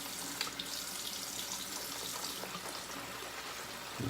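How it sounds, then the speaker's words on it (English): A tap runs steadily into a sink while shaving soap is lathered, a continuous soft splashing stream heard close and fairly quiet, with a brief low knock near the end. "trying to add some more water here."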